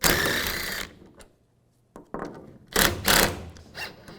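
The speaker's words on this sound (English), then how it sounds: "Now we're going to take both of these bolts out using a 13mm socket." A 13mm socket ratchet works the tailgate bolts on a 2007-2013 Chevrolet Silverado 1500, with loud rapid clicking bursts, a short pause, then more close ratcheting in choppy spurts.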